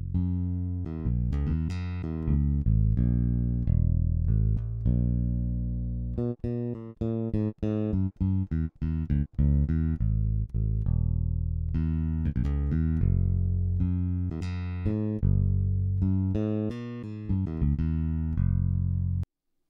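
An Ample Sound Bass P virtual bass plays with a standard sustain articulation, a steady run of deep, round plucked notes, some held, some clipped short, clean and close with no talking.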